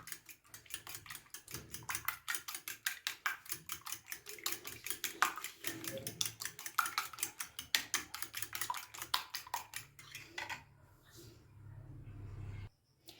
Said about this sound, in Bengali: ডিমটাকে একটু ভালো করে ফেটিয়ে নেব